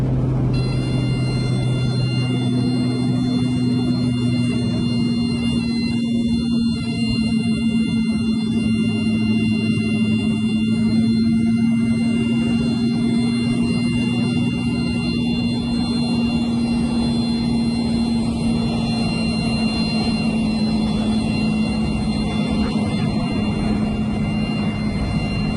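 A helicopter at low rotor RPM, with steady high-pitched alarm tones sounding over a continuous droning hum from the rotor and engine, loud and close throughout.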